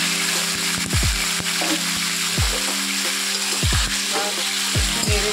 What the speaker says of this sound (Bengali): ভালো করে ভাজা হওয়ার জন্য ভেজে দিচ্ছি